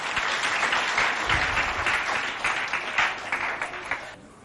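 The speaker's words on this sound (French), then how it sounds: "Avec les membres du jury, j'aimerais qu'on applaudisse pour les accueillir tout de suite et maintenant." A hall audience applauds to welcome jury members at a school competition, a lively burst of clapping that fades away at the end.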